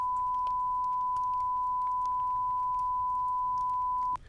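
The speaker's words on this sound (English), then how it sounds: "one of the buttons is the beep sound," A single continuous, steady electronic beep at one pitch lasts about four seconds before cutting off abruptly.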